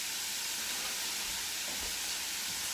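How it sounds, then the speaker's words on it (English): Steady sizzling hiss of food frying in a pan, continuous and fairly loud with no talking. "while that is frying up a little bit"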